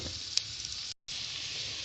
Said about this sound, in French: Dans un faitout, j'ai versé un peu d'huile de tournesol et j'y fais revenir mon demi-oignon jusqu'à ce qu'il soit bien tendre, bien coloré.